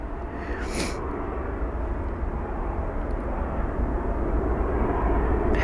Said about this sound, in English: Now there it is, that 767 aircraft.